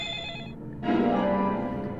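A creepy telephone ringing in the video game Deadly Premonition Origins, a steady electronic ring that briefly drops out and then resumes louder and fuller, close and continuous with no talking.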